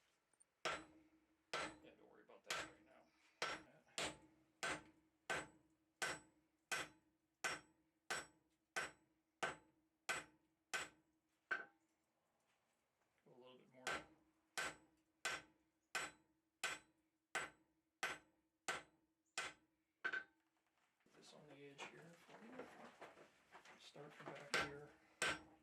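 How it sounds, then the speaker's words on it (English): Sledgehammer blows ring out on hot steel while a cross peen is forged, about thirty sharp, evenly spaced strikes in two long runs separated by a pause, with softer clanking and shuffling at the end. "So he's doing the sledgehammer work"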